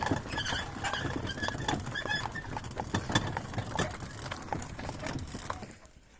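Horses for sale moving and shuffling nearby, with irregular hoof clops and scuffs over a steady outdoor background, fading toward the end.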